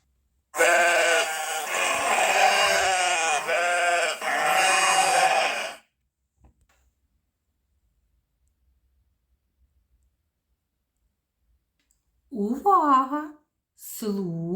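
Sheep and a ram bleat loudly in a wavering run of cries, then fall silent before two more short bleats near the end.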